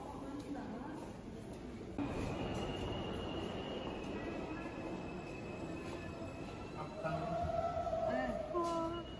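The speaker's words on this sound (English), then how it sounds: "Subway. Not the food chain." A New York City subway train rumbles steadily with high squealing wheel tones and metallic whines, growing louder near the end; no clear speech.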